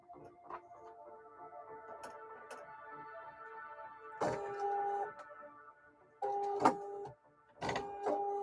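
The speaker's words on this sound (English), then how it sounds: "We'll do a basting stitch just in case it's not at the right spot." A home sewing machine running a basting stitch in short bursts with a whirring, ticking motor, plus some clicks and handling noise in between, close and clear in a quiet room.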